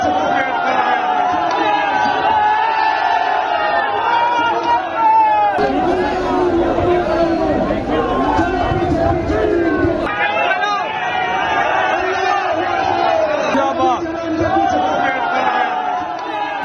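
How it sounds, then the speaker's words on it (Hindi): A Pakistani crowd outside the Indian High Commission in Pakistan chants slogans in a loud, sustained roar of many voices. A reporter speaks over it at first, then the crowd noise takes over in the middle, then the reporter's voice returns. "पाकिस्तानी भीड़ आप देख रहे हैं जो भारतीय दूतावास के बाहर मौजूद है, नारेबाजी कर रही है।"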